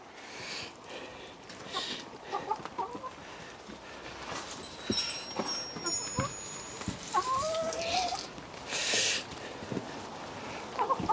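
Silkie hens cluck and murmur softly at a distance on an allotment in the rain, with occasional short calls over a quiet outdoor background.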